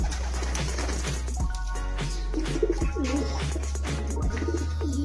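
Domestic pigeons coo in a loft, several soft rolling coos repeating at close range over a steady low hum, with some chirps and rustling mixed in.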